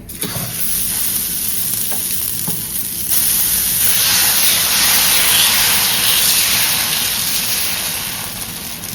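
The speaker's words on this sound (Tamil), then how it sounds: "ஊற்றிக்கலாம் நம்ம ஒரு தோசையை." Egg dosa batter hits a hot griddle and bursts into loud sizzling that swells into a broad steady hiss after a few seconds, close up with no talk.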